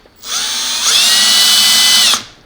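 A power drill with a matched bit drills into an explosion-proof motion sensor housing, a loud close whine that spins up, rises in pitch partway through, holds steady, then stops sharply.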